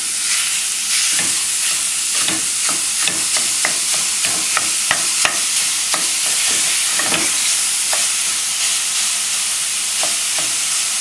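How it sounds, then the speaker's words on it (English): Ground beef frying and being stirred in a pan, a steady sizzle broken by repeated scraping strokes of a utensil, close and fairly loud with no talking. "First thing I'm going to do is cook the ground beef."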